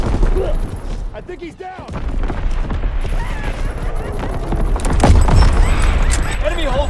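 Artillery shells land in a war video game, a run of booming blasts and gunfire rolling through the scene, the heaviest impact near the end, with a voice shouting over the noise.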